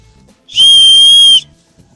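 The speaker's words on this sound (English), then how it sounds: "it's got this emergency whistle built into the buckle. And so I'm gonna blow it now." An emergency whistle built into a Bear Grylls Commando 60 backpack's sternum strap buckle gives one loud, shrill, steady blast lasting under a second, starting and stopping sharply against near silence.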